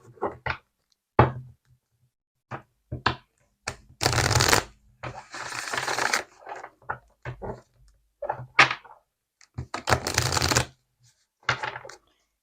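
Oracle cards (a mirrors oracle deck) shuffled by hand in repeated bursts: short riffling flurries and longer rushing shuffles, close and clear, with small taps and knocks between and no talking.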